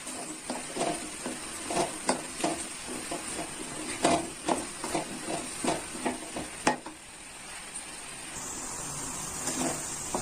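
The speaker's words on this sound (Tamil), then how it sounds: "இதையும் நல்லா சேர்த்து வதக்குங்க" Vegetables including eggplant sizzle in a pan while a utensil scrapes and stirs in quick repeated strokes, then the frying settles into a steady hiss.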